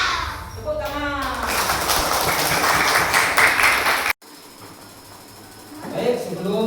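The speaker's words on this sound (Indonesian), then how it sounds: "Tepuk tangan." A school class clapping hands together in a classroom, a dense burst of applause lasting a few seconds that ends abruptly, preceded and followed by a voice speaking.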